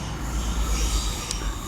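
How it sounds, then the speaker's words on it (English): Steady low rumble of a passing Great Western Railway train heard from a fishing spot, with rolling wheel noise and a brief high squeal near the end, continuous and moderately loud. "Here comes one of those trains."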